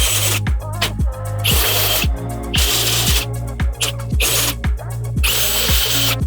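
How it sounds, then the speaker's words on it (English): A power drill countersinks rivet holes in lightweight DIY cabinets, starting and stopping in repeated loud, close bursts of high whining and grinding, each lasting about a second, with brief pauses between and no talk. "we're going to take a little bit of extra time and we're going to countersink our rivets"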